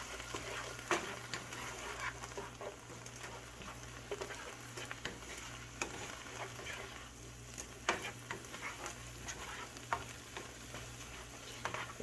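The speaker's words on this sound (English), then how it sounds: "we're going to add about a 1/4 cup of red wine. And just cook this off, cook the alcohol off for a minute or two" Red wine cooks off in a hot pan of shepherd's pie filling, giving a steady close sizzle with occasional stirring scrapes and taps.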